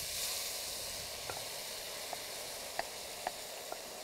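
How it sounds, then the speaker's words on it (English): Olive oil sizzles in a braiser pan in a home kitchen with a steady close hiss and a few sharp pops, and no talking. "So now we're gonna get some olive oil into our pan here."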